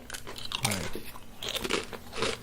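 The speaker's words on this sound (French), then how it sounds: "t'as vraiment l'impression que tu manges une petite croustille un peu plus santé" Close crunching and chewing on sweet chili rice crisps, a few sharp crisp bites followed by brittle munching, loud and near with no talk over it.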